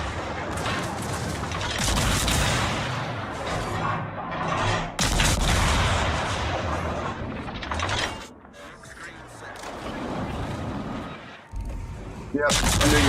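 Naval guns firing high-explosive shells in a World of Warships battle: a dense, sustained barrage of booming blasts and rumble with repeated loud volleys, easing briefly near the end, while a voice talks over it.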